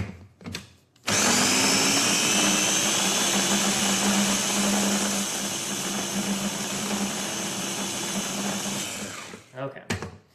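A food processor grinds chickpeas and avocado into hummus in a steady loud whir lasting about eight seconds, starting and stopping abruptly, with faint voices before and after.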